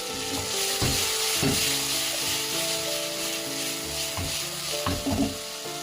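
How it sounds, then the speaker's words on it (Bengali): Chicken pieces frying in mustard oil in a pan over high flame, a steady loud sizzle with clattering stirring and scraping of a utensil throughout, no voices. "এখন হাই ফ্লেমে ভেজে নেব।"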